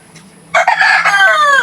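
A rooster crows loudly and close by, a single drawn-out call, with hens clucking around it on a farm at feeding time.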